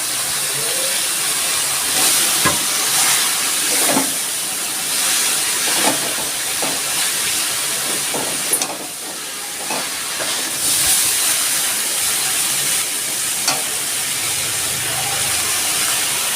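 Water spinach (kalmi greens) tossed into a hot pan gives a steady broadband sizzle and hiss of steam. It runs continuously at moderate loudness, with occasional clatters of utensils and no talking.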